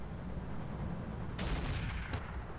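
Mech weapons in the video game Roguetech fire at turrets: a burst of sharp, loud shots arrives over a steady rumbling game background, with a final crack shortly after. No one speaks.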